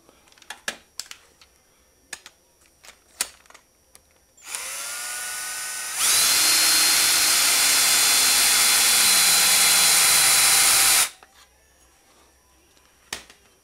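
An air compressor tool whines on hard for several seconds, rising then holding a steady high pitch, while compressing and tightening an Aprilia RSV4 motorcycle fork part during a rebuild, with scattered small clicks and taps before and after.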